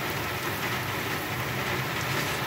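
Steady rain falling outdoors on an early morning while pork tukpat is being cooked, a dense, even hiss of drops close by with no talk over it.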